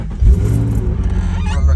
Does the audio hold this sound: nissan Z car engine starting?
yes